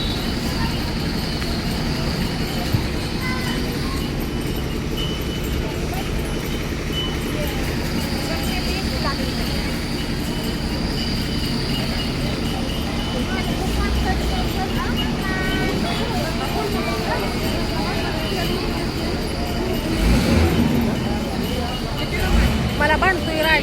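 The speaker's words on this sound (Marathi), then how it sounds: "गाडी चालली आहे." Bus moving at a bus stand in Baramati, a steady low engine rumble and road noise inside the vehicle, with people talking throughout.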